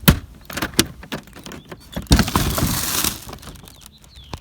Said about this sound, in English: what we'll do now is open up the cargo topper